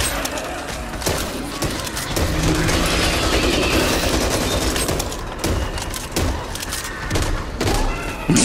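Rapid gunfire in the zombie shooter Back 4 Blood, dense and loud bursts with booming thuds running nearly continuously over game noise, with a player's voice talking over it.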